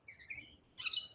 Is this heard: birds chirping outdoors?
yes